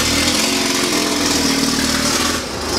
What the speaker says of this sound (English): Tractors going by here now.